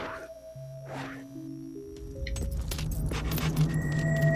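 Metallic jingle of keys being counted in the Xbox 360 video game Fable II, a bright scattered rattle that builds over a few seconds against steady game music and low ambience, with no talking.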